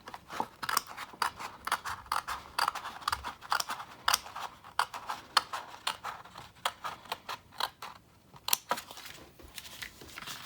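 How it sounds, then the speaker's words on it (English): Small sharp scissors snipping into paper card, a close, quiet run of quick crisp cuts in an uneven rhythm with brief pauses between them, heard alone without any talking. "you use a little sharp scissors like so, and you carefully make a hole and then cut into the"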